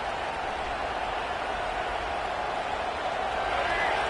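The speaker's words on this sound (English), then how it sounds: "Listen to this crowd just shaking the girders of this place, trying to help their defense." A dense, steady roar of a large stadium crowd cheering in a Madden football video game, loud and continuous throughout with no pauses.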